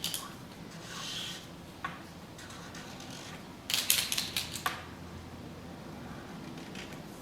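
A paint marker is shaken, its mixing ball rattling in a quick burst of close clicks, followed by soft taps as the tip is pressed down on a surface.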